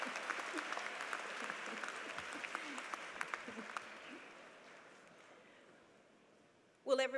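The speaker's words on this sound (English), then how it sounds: "Round of applause for dignity." Commencement crowd applause at a university graduation ceremony, a broad sustained wash of clapping that gradually fades out over several seconds, followed by a brief loud burst at the very end.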